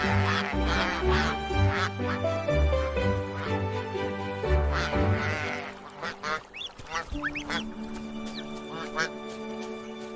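A cartoon duck on a farm quacks in a few brief calls among chirps and bright, busy music, with a voice speaking over the playful scene.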